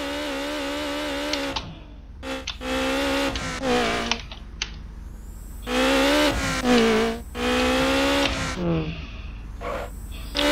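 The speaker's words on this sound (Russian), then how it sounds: "Не хочет заноситься машина." In the racing game Need for Speed Underground, a car engine whines and tires squeal in long sustained drifts broken by brief gaps, loud and close, with keyboard tapping underneath.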